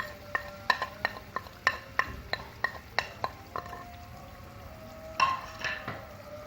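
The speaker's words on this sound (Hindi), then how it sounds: "इसको भूनेंगे अच्छी तरह से" Red chilli powder and turmeric stirred and roasted in a pan for a chicken and potato salan: about a dozen crisp clinks and scrapes of a spoon against the pan in a steady rhythm, over a soft frying hiss, then a final cluster of scrapes.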